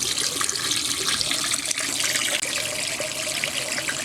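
Filtered water runs steadily from a kitchen faucet fed by a five-stage under-sink filter, a continuous close splashing hiss into the sink with no breaks.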